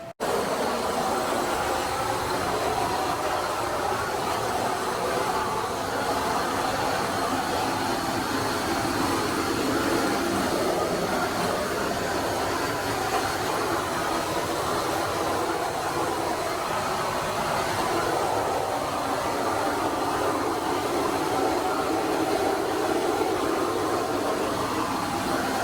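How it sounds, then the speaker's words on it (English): A blower shooter sprays base coat over epoxy during a fiberglass and concrete pool renovation, giving a steady, loud, broadband rushing roar with a machine drone that holds unchanged throughout and no voices. "this piece of equipment, which I guess is a blower shooter that shoots the base coat back around"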